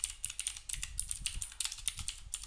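Close, quiet typing on a computer keyboard while building a Salesforce Flow, a quick irregular patter of light key clicks throughout.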